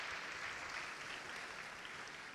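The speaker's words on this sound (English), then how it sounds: "please join me in giving another round of applause to Dottie for the great presentation" A university audience at İTÜ applauds after a presentation by a NASA astronaut, producing a steady wash of clapping heard from a distance, moderately quiet and continuous for the brief stretch.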